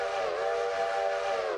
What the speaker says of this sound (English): I love that you can quill the whistle.